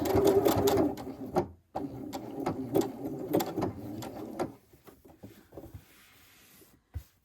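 A sewing machine stitches a quilt block in short bursts of clattering needle strokes, pausing briefly, then slowing to a few separate stitches and a final click, close and clear.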